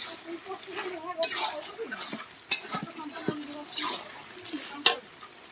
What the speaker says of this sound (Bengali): এটা হলো ভুড়ি এটা ভুড়িটাকে সুন্দর করে কীভাবে কষাইতেছি দেখো তেল দিয়ে